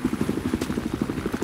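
Helicopter rotor chop and engine drone in the Battlefield 4 video game, a steady rhythmic low thumping that runs near and loud throughout, with a brief crackle partway through and no talk.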